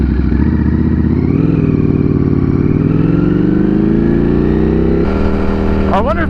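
Ducati Streetfighter V4 riding: a steady, loud engine drone with shifting harmonic pitch from start to finish, as if recorded on the bike, with a brief change in tone near the end.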